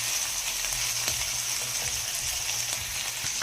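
Liver frying over a small burner on the stove, giving a steady, close sizzle with faint crackles and pops throughout and no voices.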